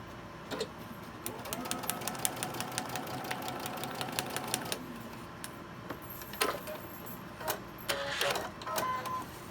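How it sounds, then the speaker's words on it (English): A sewing machine stitches fabric for paper piecing in quick rhythmic bursts, with mechanical clicks and rattles and a few pauses between runs. "I'll take it over here to the sewing machine and sew it."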